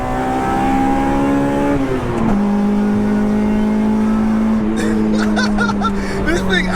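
A Honda Integra Type R DC2 engine revs hard toward 9,500 RPM. It makes a loud, sustained harmonic whine that drops in pitch once, about two seconds in, and then holds steady.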